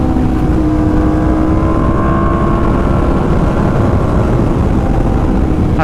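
A 2020 Yamaha R1 sport motorcycle runs loud and close, its engine a sustained roaring drone with rising whine as it revs, and no talking.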